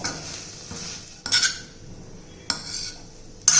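A utensil scrapes and clinks against a pan while stirring ragi noodles, with a few sharp metallic knocks standing out from a soft, steady background hiss.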